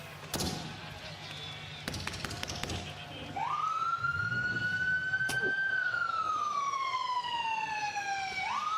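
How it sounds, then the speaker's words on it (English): Ambulance siren from a wrestling TV broadcast, a steady rising then slowly falling wail that starts partway through, loud and close, over crowd and commentary noise with a few sharp bangs early on. "Death Rider's getting taken away in an ambulance."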